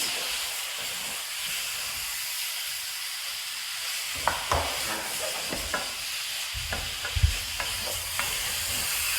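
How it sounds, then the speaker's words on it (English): Steady sizzling hiss from a hot pot of beef stew meat with paprika, with a spoon scraping and stirring through the food in brief clinks and knocks. "just stir this to coat the meat"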